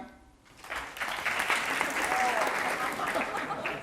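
A live theatre audience claps together in a burst of applause at a podcast show, starting after a brief quiet moment and holding steady and dense to the end, with a faint voice briefly heard over it.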